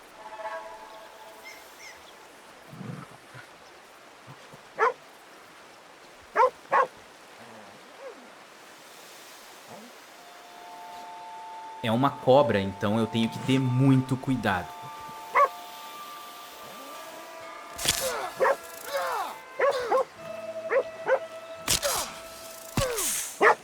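Intermittent dog barks and yips from a hunting dog in Red Dead Redemption 2, scattered through the clip under steady narration, with outdoor ambience and a few sharper sounds near the end.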